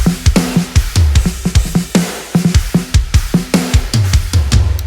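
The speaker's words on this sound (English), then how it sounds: "And the drums sound like this." A full mixed drum track shaped with plugin EQ, including a strong high-pass, plays a busy, loud rock pattern: punchy kicks, crisp snare hits and constant cymbal wash in a driving, steady groove.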